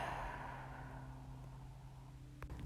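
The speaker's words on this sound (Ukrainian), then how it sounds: "І повільний, повільний видих через рот." A slow, deep breath let out through the mouth during a morning breathing practice, a soft breathy exhale fading gradually over a quiet low hum.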